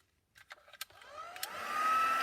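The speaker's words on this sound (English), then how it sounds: "heat tool and just give it a bit of a dry off." A heat tool drying a mixed media canvas background: a few soft clicks, then the blower motor whirs up in rising pitch to a steady, close hum.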